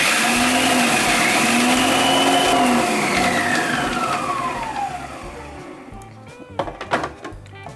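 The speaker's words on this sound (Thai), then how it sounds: "ปั่นพริกทอดค่ะ" A blender motor whirs loudly and steadily with shifting pitch as it grinds fried chilies, then winds down into scattered rattling and clatter.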